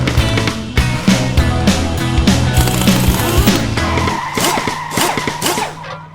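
Dodge Demon tires screeching and skidding under hard acceleration, a loud sustained squeal with roaring engine revs and rhythmic bursts, fading slightly toward the end.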